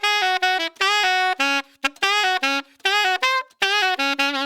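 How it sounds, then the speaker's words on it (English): A solo saxophone track from a mix, driven with heavy distortion and grit, plays a clear run of sustained, separated notes up close with short gaps between phrases. "So the saxophone by itself sounds like this."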